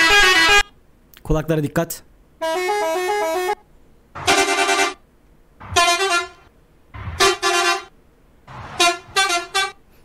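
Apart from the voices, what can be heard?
different car horn sounds from a video game mod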